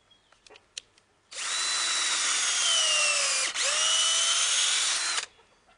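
A power drill whirs steadily for about four seconds, briefly dipping in pitch midway as it bites into a wooden post, after a few light clicks.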